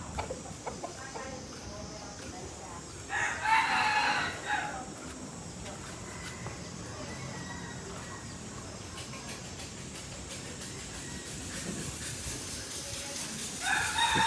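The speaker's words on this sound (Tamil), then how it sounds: "என்னன்னு தெரியல, இங்கே சேவல் தான் வச்சுருக்காங்க எல்லாம்." Roosters kept at a golden Buddhist temple in Pattaya, Thailand, crow and cluck at a moderate distance, a clear burst early on and fainter calls later over steady outdoor ambience.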